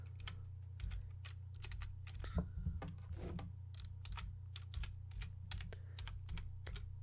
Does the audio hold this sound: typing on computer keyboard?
yes